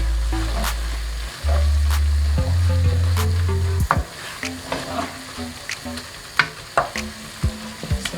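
Coriander being mixed into a fish dish in a hot pan gives a steady sizzle with a low hum, followed by repeated scraping and tapping of a utensil against the pan, close and clear.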